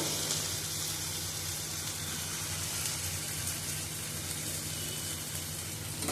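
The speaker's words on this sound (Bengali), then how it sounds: "আলুগুলি দিয়ে দিলাম আমি ভাজি নিই আলু" Potatoes fry in a pan for a green banana and pea lentil fritter curry, giving a steady, close, crackling sizzle that continues evenly throughout with no talking.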